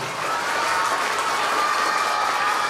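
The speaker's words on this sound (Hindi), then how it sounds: "एक बार जोरदार तालियां।" Audience applause at a welcome ceremony honouring a UPSC 2023 rank holder, a dense steady wash of many hands clapping, loud and continuous throughout with no talk over it.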